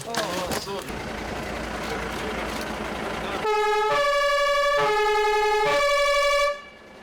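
A new fire truck's horn sounds in several loud, sustained honks after engine rumble and outdoor noise, close by and dominating the scene before cutting off.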